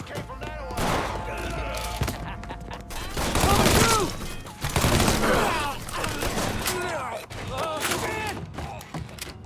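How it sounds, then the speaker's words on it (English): Bursts of gunfire in Mafia 3, a mix of shots and thuds layered under music and in-game dialogue, fairly dense and steady in loudness across the scene. "Shots came from that one."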